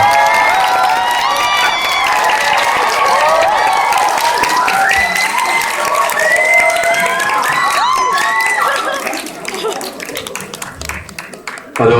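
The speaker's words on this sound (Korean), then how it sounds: "여러분 박수 부탁드리겠습니다" Cinema audience at a stage greeting in a CGV theater applauding and cheering loudly as the director and cast come out, dense clapping with shouts and squeals, easing off near the end.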